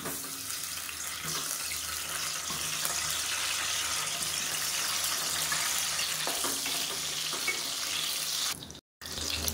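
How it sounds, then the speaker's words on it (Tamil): Eggplant pieces sauté in hot oil for a Tamil kulambu, giving a steady, fairly loud broadband sizzle that runs almost unbroken, with a brief silent gap near the end. "இப்போ நம்ம எண்ணெயில் போட்டு நல்லா வதக்கி எடுத்துக்கலாம்"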